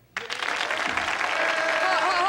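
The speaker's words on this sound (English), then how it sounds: "Hold the applause till I finish, please." Studio audience applause on a comedy sketch show bursts in suddenly and holds steady and loud, a dense wash of many hands clapping with a few voices faintly whooping beneath.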